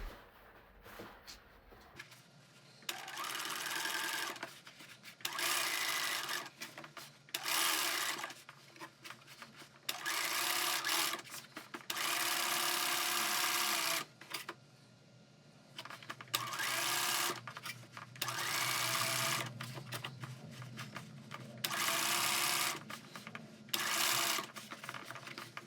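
A sewing machine topstitches a women's shirt, running in repeated bursts of steady whirring stitching separated by short pauses, fairly loud and close with no talking.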